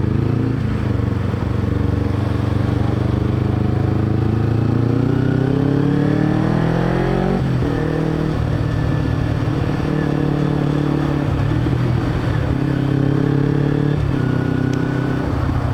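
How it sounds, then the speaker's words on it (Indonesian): Kawasaki Ninja 250R carburetor motorcycle ridden on an open road, its engine droning steadily and loud throughout, pitch rising through gears with shifts and brief drops before climbing again; no talking. "motor Ninja Karbu 250R atau ya Ninja Karbu lah, Kawasaki Ninja"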